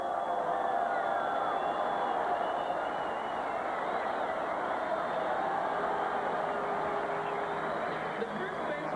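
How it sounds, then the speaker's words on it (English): A baseball stadium crowd at a 1996 Orioles–Red Sox game roars steadily as first baseman Mo Vaughn comes up to bat, a dense, continuous wash of crowd noise holding at an even level. "And here's the crowd for Mo."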